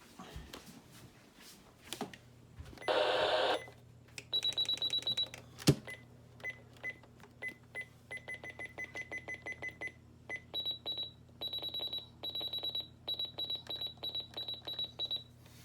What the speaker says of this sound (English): this has two different types of button beeps